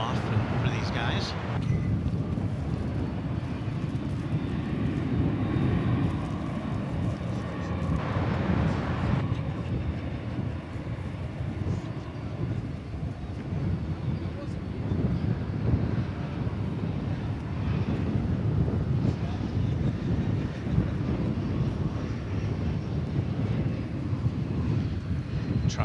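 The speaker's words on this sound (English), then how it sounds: "you can hear it is a windy day" Steady wind buffets the microphone at a busy airport on a grey day, a continuous low roar with distant aircraft engine rumble mixed in throughout.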